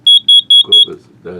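A Carbon Monoxide Alarm Model C3010 sounds four loud, shrill, evenly spaced beeps up close, followed by brief talking at the end.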